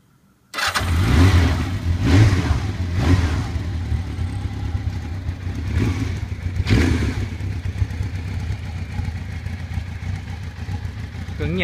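Original engine of a Honda CBX750P motorcycle revs loudly and close, idling with a steady low rumble between sharp throttle blips that rise and fall several times over about eleven seconds.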